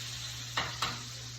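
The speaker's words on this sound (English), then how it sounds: "And what I want is that butter to be nice and foamy, to really kind of foam up." Butter foams and sizzles in a pan with thyme stems while seared scallops cook, a steady soft hiss with two brief louder sputters or scrapes near the middle.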